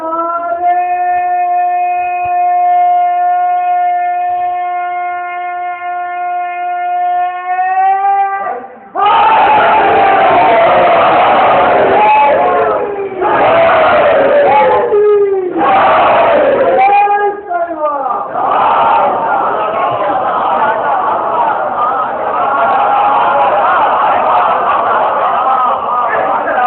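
Crowd at a majlis roaring religious chants in loud unison bursts after a sustained tonal voice, then a continuous swell of massed shouting filling the end.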